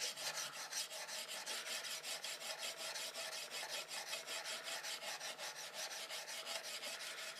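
A saw tool is rubbed flat, back and forth on a sharpener, a close, fairly quiet rasping scrape in a fast even rhythm of repeated strokes, with no voices.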